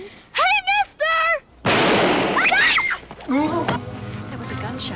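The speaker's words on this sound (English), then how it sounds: "That was a gunshot." A single loud gunshot cracks out close by in a wooded setting, a sharp broadband burst that decays over about a second, following excited shouting and followed by more agitated voices.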